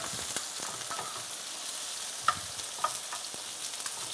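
Sliced mushrooms dropped into a pan of frying onions, giving a steady close sizzle with a few sharp clicks and scrapes of stirring, no voices.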